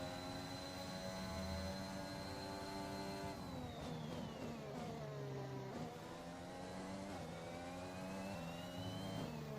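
Formula One car engines in the F1 2021 racing video game, a loud sustained high-pitched whine rising and falling with gear changes, another car's engine running alongside.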